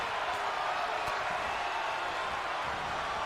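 An arena crowd in WWE 2K22 gives off a steady, dense wash of murmuring and cheering, constant and moderately loud with no single voice standing out.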